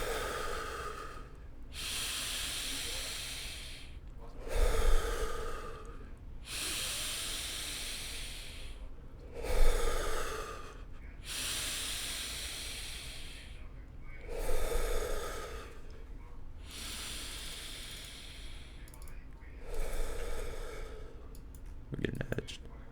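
Slow, deep breaths during a breathing exercise come as long hissing inhales and exhales in a regular cycle of about five breaths, close to the mic, with a low background hum.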